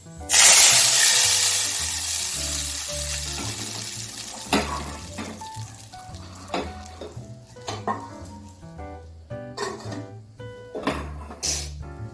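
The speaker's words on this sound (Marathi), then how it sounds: "त्यामध्ये मिरची घालून घेऊया आणि यावरती तडका देऊया" Tadka of chillies in hot oil poured onto dal khichdi, a loud burst of sizzling at the start that fades, followed by scattered clinks of utensils and pan knocks.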